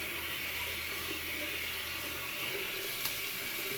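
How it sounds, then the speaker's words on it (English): A shaving brush is wetted under a steadily running tap, a continuous close hiss of flowing water with no pauses. "I'm going to wet the brush."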